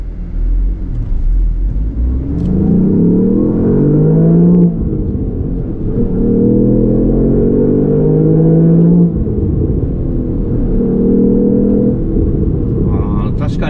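A Lexus LBX Morizo RR or GR Yaris engine revs on a circuit in circuit mode, heard from inside the car as repeated rising pulls broken by gear shifts, with people talking over the engine.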